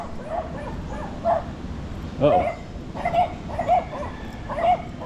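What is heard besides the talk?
dogs barking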